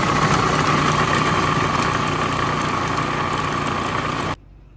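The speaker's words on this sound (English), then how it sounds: "We have all of our ingredients in the food processor, and next we're just going to go ahead and turn it on." A food processor running on carrots and eggs for carrot spoon bread, a loud steady motor whir holding constant before cutting off abruptly near the end, no voices.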